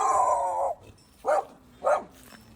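Dogs bark and howl in the background, with one drawn-out howl followed by two separate barks, fairly faint and away from the microphone.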